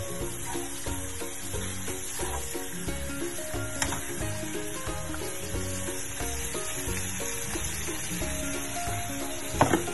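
Chicken sizzles steadily in a frying pan while being stirred, with a constant close frying hiss, regular scraping strokes and a sharper clink near the end, and no talking.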